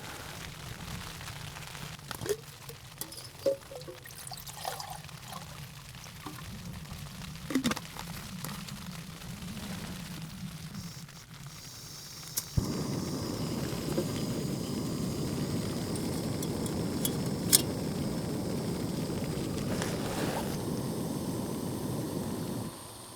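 Heavy rain drums steadily on a small tent while camp is packed away, a dense even patter that grows louder and fuller partway through, with occasional rustles and knocks of gear close by.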